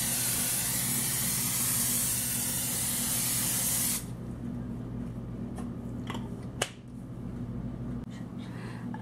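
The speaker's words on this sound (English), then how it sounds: "the first step is to spray your baking sheet with cooking spray" Cooking spray hisses onto a cookie sheet in one continuous burst of about four seconds, then stops, leaving quiet room tone with a couple of small clicks and taps; preparing to make marbled glass candy.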